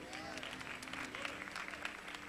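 Audience clapping at an awards ceremony honoring a franchise business owner, fairly quiet and distant, running steadily under an ongoing voice in the room.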